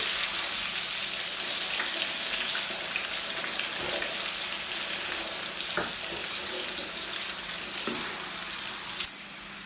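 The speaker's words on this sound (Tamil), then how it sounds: "நான் இப்போ கடலை பொரிக்க போகிறோம்." Steady crackling sizzle of peanuts deep frying in hot oil, loud and close, with occasional pops and a slight drop near the end.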